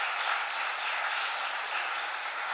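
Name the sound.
audience applauding guitarist Toni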